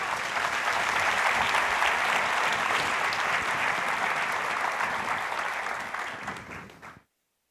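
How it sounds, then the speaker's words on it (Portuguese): Sustained loud applause from a church congregation for about seven seconds, steady and dense, then cutting off abruptly at the end. "Aplauda o Senhor Jesus."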